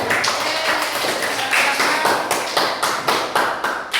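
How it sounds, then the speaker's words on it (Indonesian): Classroom applause from a group of students, sharp hand claps in a rhythmic, tapping pattern that repeats steadily and close by, lively but loosely coordinated. "Udah ya, tepuk tangan buat kalian semua"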